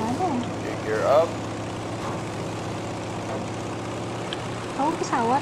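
A propeller warplane in the video game Battlefield V drones with a steady low engine hum throughout, and voices talk over it at the start and the end.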